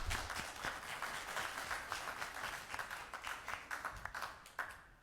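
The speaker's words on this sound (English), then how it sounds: "that must have been okay, since we got a round of applause" Audience applause fills a county economic and community development meeting, a steady wash of many hands clapping at moderate distance with a few sharper claps poking out, no one speaking over it.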